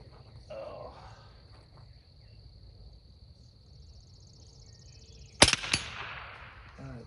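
A sharp, loud rifle report from an MC 58 fired at round practice targets during CMP Games practice, with a quick echoing tail, over a steady background of insect chirping outdoors.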